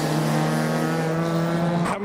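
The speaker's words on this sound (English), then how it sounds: "Turbocharged MX-5s are arriving as well as other content in the distance." A turbocharged Mazda MX-5 arriving at a JDM car meet, its engine droning loudly and steadily up close for two seconds before cutting off abruptly.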